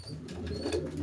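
Pigeons in a breeding loft, soft low cooing from several birds close by, overlapping in a gentle continuous murmur with faint chirps above.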